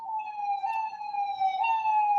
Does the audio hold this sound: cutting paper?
no